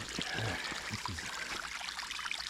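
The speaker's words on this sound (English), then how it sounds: "a fork in the creek" Creek water trickles and flows over rocks on an off-trail creek walk, a steady close babble with small splashes, no voices.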